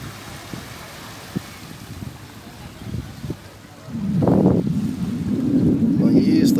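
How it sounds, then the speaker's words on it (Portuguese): Jet ski at Barra do Cunhaú beach, with its engine drone swelling in from midway and holding steady under gusty wind buffeting on the microphone. "Jet ski."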